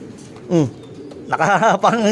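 A breeding pigeon coos softly nearby, a short call followed by a longer warbling coo, close and clear over quiet background.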